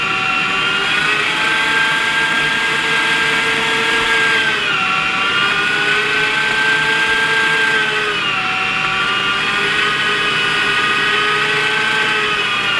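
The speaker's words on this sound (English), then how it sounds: "we'll plug this grinder in, we'll get to grinding" An electric meat grinder grinds venison for deer jerky with a loud, continuous, close motor whine. The pitch dips briefly twice as the load changes, and no one speaks.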